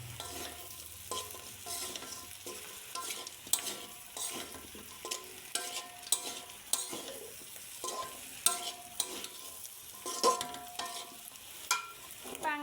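Pangas fish pieces, fried red beforehand, stirred with fried potato and onion in a pan: a steady close-up sizzle with repeated scraping stir strokes throughout, no talking.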